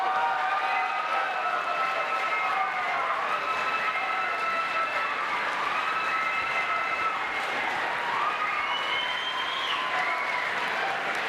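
Sustained, dense applause fills a debate hall as Ohio Governor John Kasich is introduced, with a steady roar of clapping and crowd noise carrying ringing tonal voices or whistles throughout, loud and unbroken.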